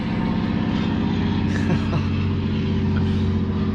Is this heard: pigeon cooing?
no